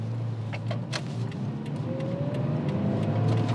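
Automatic Toyota Auris pulling away in first gear, a quiet engine hum that rises gently as the car gains speed, with a thin whine building in the second half and scattered light clicks.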